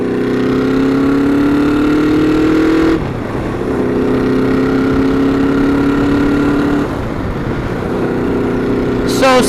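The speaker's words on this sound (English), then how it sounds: "Listen to the shifting, man." A Honda Nighthawk motorcycle engine drones steadily while riding, its pitch climbing, then dropping abruptly at two gear shifts before rising again, loud and close with wind rush.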